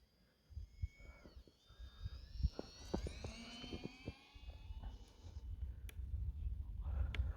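A small UMX Twin Otter RC model floatplane flies at night over snow, its electric motor giving a thin rising and falling whine that sweeps past with some nearby handling thumps and breezy rumble.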